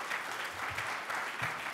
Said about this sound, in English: please all give him a warm round of applause